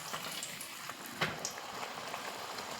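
Ariselu dough made with jaggery frying in hot oil: a steady, quiet bubbling sizzle that runs throughout, with one brief louder crackle near the middle.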